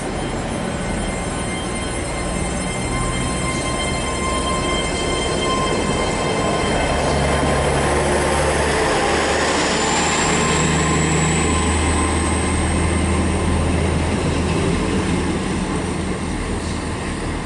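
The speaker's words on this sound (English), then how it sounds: "departing now is now the delayed 1202 Great Western Railway service to Bristol Temple Meads only" A Great Western Railway train departing Bath Spa station, a loud continuous rumble of engine and wheels on track with a rising whine, sustained and close throughout.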